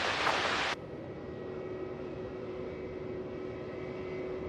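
An airliner landing on runway 16 at Melbourne Airport produces a steady, distant broadband engine roar with a faint tonal whine, heard after a brief louder burst of noise at the start.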